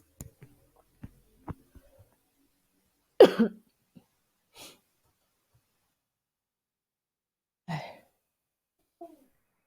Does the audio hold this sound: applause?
no